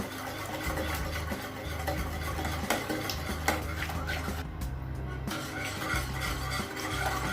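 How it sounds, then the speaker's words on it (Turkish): A semolina and milk dessert mixture is stirred steadily in a pot, a continuous scraping swish with light clinks of the utensil against the metal, close and moderately loud with no talking. "Bunları iyice karıştırıyorum."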